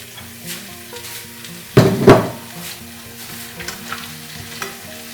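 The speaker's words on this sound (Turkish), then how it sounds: "Bir iki dakikada bunlarla birlikte kavuruyorum." A short burst of loud sizzling as chopped tomatoes with their juice hit a hot pan, flaring twice and then settling into a quiet background hiss with faint kitchen clatter.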